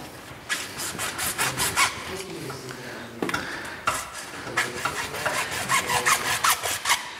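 A handsaw rasps steadily through wood in quick back-and-forth strokes, close and fairly loud, with a short pause midway before the sawing resumes.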